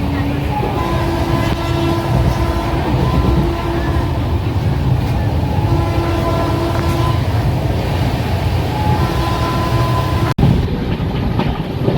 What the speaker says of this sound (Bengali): রাত্রিবেলা আমাদের ট্রেন দ্রুত গতিতে ছুটতে লাগলো